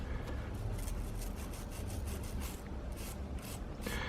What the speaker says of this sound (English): So I'm going to clean this off with a wire brush and put some Loctite 243 on here.